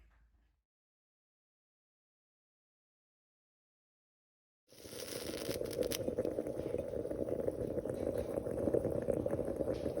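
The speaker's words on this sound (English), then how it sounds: "I'm going to put it on the heat on my stove with the handle off of the heat and just boil that water through" Water heating in a Bialetti Alpina moka pot on a stove: after a few seconds of silence, a steady faint bubbling and hissing rises and continues evenly, quiet and close, with no talking.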